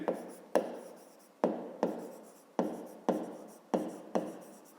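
Pen or pencil strokes of a maths solution being written by hand on paper, a series of sharp scratchy strokes at a steady rhythm, close and alone.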